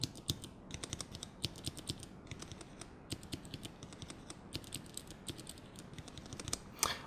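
Steady typing on a mechanical keyboard with Cherry MX Red switches, bursts of soft rapid keystrokes with brief pauses, fairly quiet and close.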